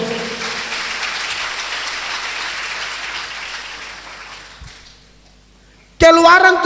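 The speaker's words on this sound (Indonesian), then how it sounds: "Yang mengerti tepuk tangan dulu bagi Tuhan." Congregation clapping and applauding during a church sermon, a broad wash of hands that fades out over several seconds, followed by the preacher's voice resuming loudly.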